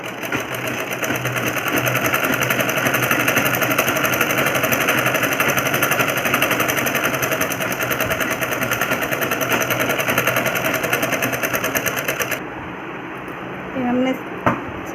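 A sewing machine stitches trouser leg pieces in a steady, loud, continuous whir for about twelve seconds, then stops, leaving a brief quieter pause with a faint voice.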